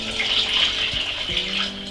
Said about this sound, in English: I'm going to top it up to the 2 liter mark using the same jug